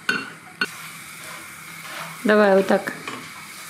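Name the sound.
pancake batter frying in a pan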